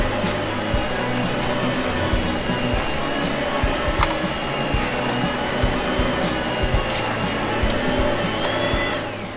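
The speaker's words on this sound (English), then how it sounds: "And, yeah, a vacuum." A vacuum cleaner runs loudly and steadily throughout, a dense continuous motor roar with a slight rising whine near the end and no talk over it.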